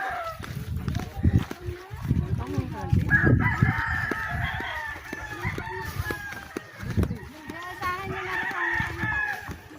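Gamecock roosters crow repeatedly at moderate distance, long drawn-out calls overlapping with voices talking in the foreground.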